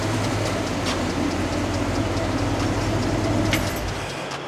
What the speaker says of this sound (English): How do you feel about that exhaust you worked hard on?